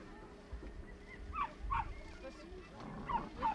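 Dogs getting ready at an outdoor working-dog competition give a few brief yips and whimpers, fairly faint, with voices talking in the background.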